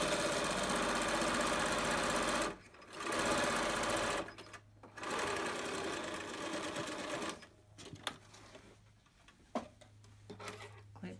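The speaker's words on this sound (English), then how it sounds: "So you're finishing off your fabric and sewing your casing at the same time." A sewing machine stitches along the raw edge of face mask fabric to sew the elastic casing, running loud and close in long bursts with short stops, then slower intermittent stitching with clicks.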